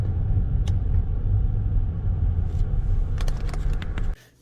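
A used car's engine idles with a steady low rumble up close, then gives several crackling ticks before cutting off abruptly.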